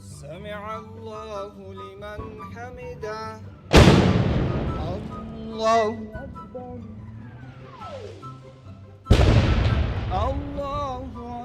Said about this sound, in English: 3 rockets fell near the presidential palace in Kabul